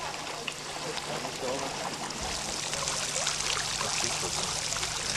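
A garden pond water feature driven by a Heissner pump splashes and trickles steadily, a dense continuous spray of water close by.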